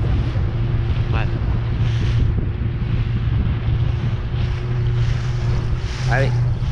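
A fishing boat motors back into port at Marseillan in a light wind, its steady low engine drone running throughout with wind buffeting the microphone and water rushing alongside.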